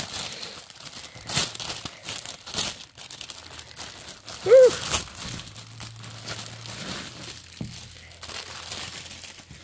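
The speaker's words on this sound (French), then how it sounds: "déballer la toile. La toile est dans un sac." Cross-stitch fabric canvas being pulled out of a plastic bag, with intermittent crinkling and rustling of the packaging up close, brief taps and a faint voice here and there.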